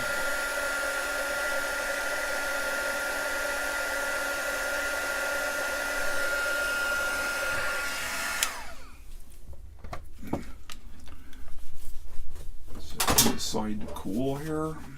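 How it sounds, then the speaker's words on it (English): Electric heat gun blowing a steady loud whoosh while shrinking tubing during electronics kit wiring, running continuously for about eight seconds before switching off, followed by light handling clatter and a brief voice. "Get the heat gun here."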